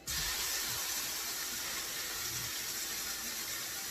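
Steaks laid into a hot skillet oiled with macadamia nut oil give off a steady, close, loud sizzling hiss that holds evenly from start to finish, with no voices over it.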